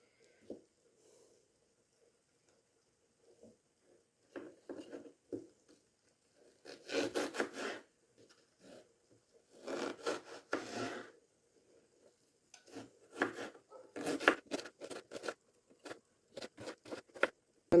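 Knife slicing through an onion on a wooden board while preparing simple Ukrainian New Year food, heard as bursts of close rubbing, scraping cuts separated by quieter pauses, with no talk.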